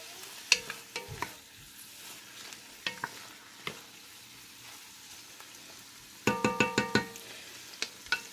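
Shrimp for gumbo cook in a hot pan on medium-high heat under a soft, steady sizzle, broken by scattered utensil clinks and a quick run of sharp scraping taps as the pan is stirred.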